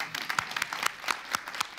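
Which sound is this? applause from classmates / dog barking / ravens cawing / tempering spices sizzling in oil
applause from classmates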